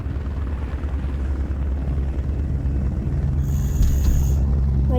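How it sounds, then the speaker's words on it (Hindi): A police helicopter in the horror game Mr. Meat 2 drones with a steady low rotor hum that stays loud throughout, rising slightly near the end with a faint high whine. "Police helicopter."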